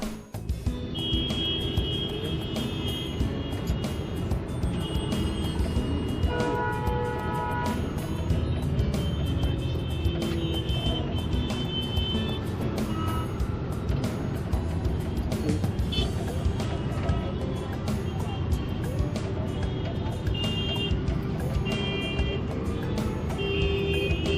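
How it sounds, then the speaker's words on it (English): A car drives through dense New Delhi city traffic, with a constant close rumble of engine and road noise and scattered horn blasts sounding throughout. "in this next scene you'll see what it's like to drive through town. I'll even leave the sound on."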